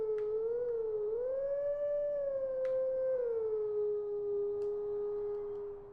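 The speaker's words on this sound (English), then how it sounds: "The wolf howl." A wolf howl from the video game The Legend of Zelda: Twilight Princess HD, one long smooth tonal wail that rises, holds and slowly falls, clear and alone.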